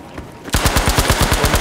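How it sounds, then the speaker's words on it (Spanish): Machine gun fire in the video game Battlefield V: after a quiet half second, a loud, rapid, evenly spaced burst of shots rattles on continuously, close and dominant. "Mira los tiros, mira los tiros."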